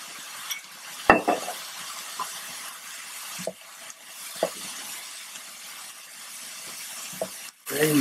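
Venison ribs stir-fry in a hot pan with soy sauce, giving a close, continuous sizzle broken by several sharp scrapes and clatters of stirring.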